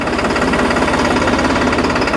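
A New Holland 3630 TX Special Edition tractor runs in second gear while braking, its diesel engine giving a loud, close, rapid rhythmic knocking that stays steady throughout with no speech.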